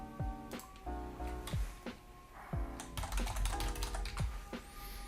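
Keys on a computer keyboard clack in short irregular runs of close, crisp taps, with brief pauses and a faint tonal hum underneath.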